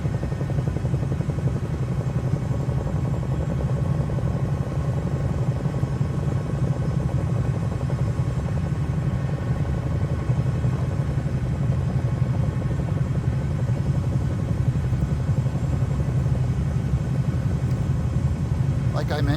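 A Cowansim Bell 222B helicopter flown in a VR flight simulator game over Niagara Falls, its steady low rotor and turbine rumble droning continuously and evenly for the whole stretch.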